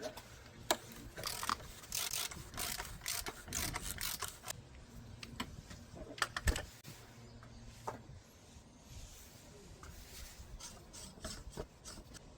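A 27mm socket loosening the oil filter housing on a Hyundai i30 engine, heard close as steady scraping and rasping turns punctuated by sharp clicks, moderately loud throughout with no talking.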